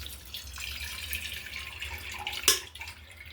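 Cooked dal for puran poli strained through a sieve, its water trickling and dripping steadily into a vessel below, close and fairly soft, with one brief sharper splash or clatter near the end.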